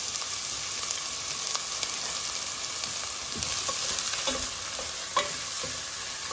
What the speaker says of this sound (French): درنا البصله ديالنا مع الزيت تقلى شويه